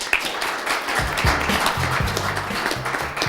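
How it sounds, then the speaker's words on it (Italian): Brief applause for a cycling team's sports director at a cyclocross event in Caorle, Italy: scattered clapping under a low murmur of voices, lasting a few seconds. "E un applauso."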